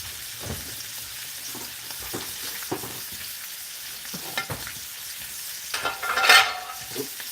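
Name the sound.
steak searing in a hot pan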